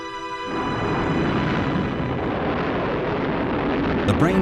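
Private A solid-fuel rocket launching from a small guide-rail tower with a four-rocket booster stage: a sudden, sustained broadband roar kicks in after half a second and holds steady, loud and continuous throughout.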